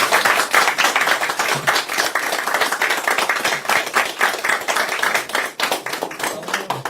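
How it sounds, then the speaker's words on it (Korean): Applause at a Korean political policy meeting between a party and a small-business federation, many hands clapping in a brisk, rhythmic burst that carries on steadily and close by. "박수 부탁드리겠습니다"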